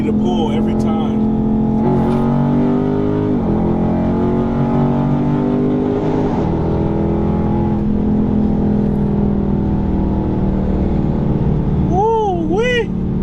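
A Dodge Charger Scat Pack fitted with BBK longtube headers accelerates hard, its loud deep exhaust drone rising and falling through several gear pulls, heard from inside the car, with people talking over it.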